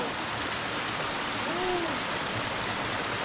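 A freezing cold Himalayan mountain stream rushes steadily nearby, a dense, even hiss of flowing water with a faint whistle-like tone briefly rising over it midway.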